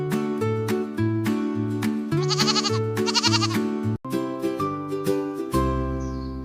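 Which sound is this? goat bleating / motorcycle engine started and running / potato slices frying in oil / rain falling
goat bleating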